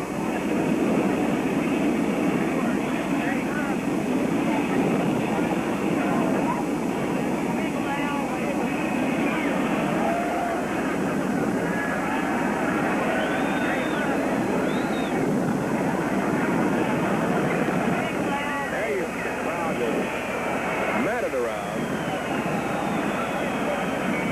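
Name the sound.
presidential jet airplane coming in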